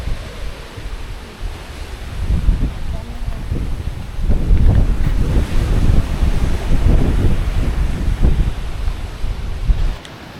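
Wind buffeting and rushing surf on the beach below the Tulum ruins on a hilltop in Mexico, steady broadband roar swelling louder midway, heard from above at a distance.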